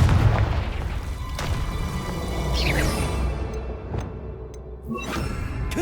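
A Confringo fire spell explodes in the Hogwarts Legacy video game: a dense, rumbling blast with crackling bursts and a few sharp hits over continuous loud game noise.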